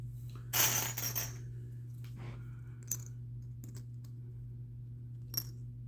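Dice clatter onto a table for the At Dawn We Slept board game, a sharp burst of tumbling clicks followed by a few scattered ticks and taps in a quiet room.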